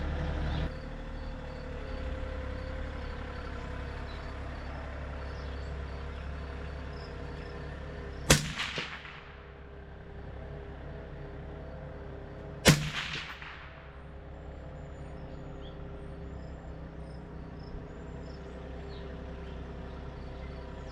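A .308 rifle is fired at a target, giving two sharp, loud shots about four seconds apart, each with a quick decaying echo, over a low steady background hum.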